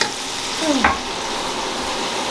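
Onions sizzle in hot oil for chicken biryani, a steady close frying hiss with a brief scrape of a spoon stirring the pan, no talk.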